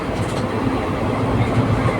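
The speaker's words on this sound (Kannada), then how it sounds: "ಪಕ್ಕಾ ಟೈಮ್ಗೆ ಹೊರಡ್ತಾ ಇದೆ ಟ್ರೈನು." A passenger train on the Mysuru to Mantralayam route runs just after departure, heard from inside as a steady, loud rumble with faint rhythmic wheel clatter.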